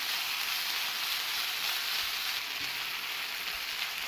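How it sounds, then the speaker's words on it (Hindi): Vegetables fry in a pan for pizza cutlets, a continuous even hissing sizzle at moderate volume with no voices or other sounds. "इसको मज़ीद 2 मिनट के लिए फ्राई कर लेंगे"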